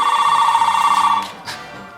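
A telephone rings loudly and close in a garage, one sustained electronic trill that cuts off after about a second, followed by a couple of brief clicks and quiet.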